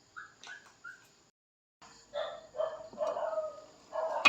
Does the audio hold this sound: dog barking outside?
yes